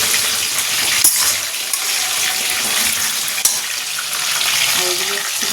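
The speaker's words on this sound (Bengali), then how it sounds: "এতে আমি এবার পেঁয়াজটা বেরেস্তা বানিয়ে নেব।" Sliced onions frying in hot oil in a home kitchen to make crisp birista, a steady loud sizzle and hiss with a few small clinks and stirring noises, close to the pan, with no voices.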